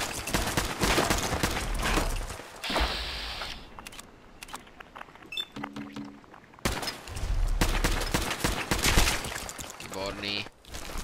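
Fallout 4 video game gunfire: repeated sharp bursts and volleys of shots of varying loudness, broken by quieter gaps, with a voice talking over parts of it.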